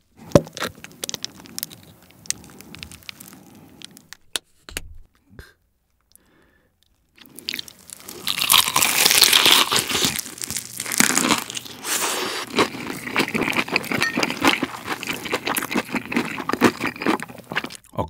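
Crispy BBQ Golden Olive Jamaica Korean fried chicken legs eaten up close, with loud crackling crunches and crinkling bites that run densely after a brief quiet pause, no talk over them.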